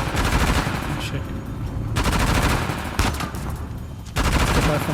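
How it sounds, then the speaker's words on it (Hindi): Machine gun fire rattles through a combat scene in the video game Uncharted: The Lost Legacy, with loud sustained bursts broken by short pauses. "इसके पास तो मशीन गन है"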